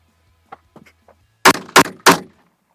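A pickup truck door opens with a few soft clunks, followed by three loud, sharp handgun shots fired in quick succession close by.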